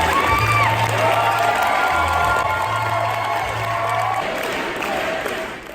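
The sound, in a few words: Young Democrats crowd applauding and cheering at rally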